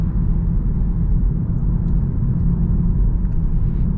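Interior drone of a 2025 BMW X1 while driving, a steady low road and engine rumble, loud and continuous with no distinct revving and no talk.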